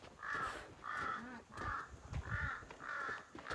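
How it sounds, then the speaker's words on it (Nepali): A harsh, crow-like bird caws five times in a steady, evenly spaced series, loud and close, with nothing else over it, out in the Sailung hills. "कोइली जस्तो पनि लाग्छ यस्तो नराम्रो कराउँछ कोइली काग जस्तो पनि छ"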